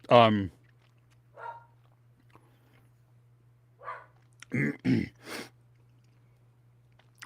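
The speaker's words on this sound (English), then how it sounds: "Oh, the dog's gonna bark." Dog barking indoors during a casual conversation: a single sharp bark opens, then a few softer yips and a short double bark follow later over a steady low hum, with people speaking around them.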